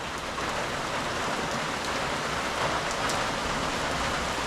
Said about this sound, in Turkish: Aynen yağmur bastırınca